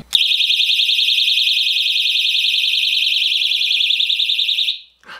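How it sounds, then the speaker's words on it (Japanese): A handheld personal safety alarm buzzer shrieks with a loud, piercing, warbling tone for nearly five seconds, then cuts off abruptly, followed by a brief faint rustle. "これはですね、防犯ブザーというやつでございます。"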